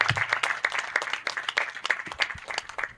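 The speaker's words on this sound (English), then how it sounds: "let's keep clapping as she goes back to her seat" Alumni association audience clapping after a speech, crisp individual claps standing out in a dense, lively round of applause that keeps going at an even pace.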